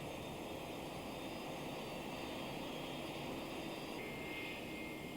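An American Airlines MD-11 airliner taxiing, a steady, unbroken jet engine roar with a whining tone that brightens slightly toward the end.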